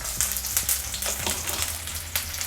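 Garlic paste, ginger paste and chili fry in a hot pan, giving a close, steady sizzle broken by bursts of crackling and the scrape of stirring.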